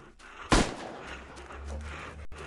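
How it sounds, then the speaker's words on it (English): A single revolver shot fired at zombies in the game Into the Dead, one sharp loud crack early on, then low rumbling game ambience and a muffled hum. "Or shoot some zombies, I guess. Because I got a revolver."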